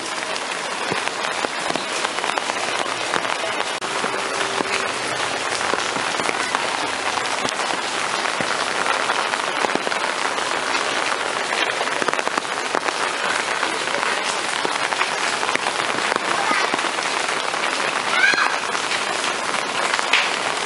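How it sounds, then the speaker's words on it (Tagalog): Steady, dense hiss of heavy rain pouring without a break, a constant wash of noise throughout with no voices. "Maulan dito, magdamag, umuulan."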